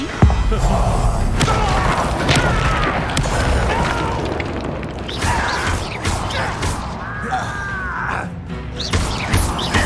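A Bombarda spell blasts in the Hogwarts Legacy video game, heavy booming impacts and crashes amid dense combat effects, loud and continuous with a faint voice in the mix.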